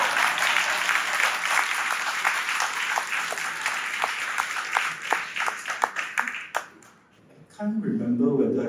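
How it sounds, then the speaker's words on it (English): Audience applause fills a hall at a company celebration, dense and steady at first, then thinning into scattered individual claps before fading out; a brief murmur of voices follows near the end. "I wish you can clap if you want to."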